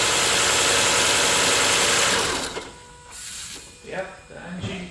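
The faulty ABS brake line on a 2006 Toyota Highlander Hybrid gives a loud, harsh mechanical whirring buzz for about two and a half seconds, then cuts out, leaving faint clicks and scattered rustling.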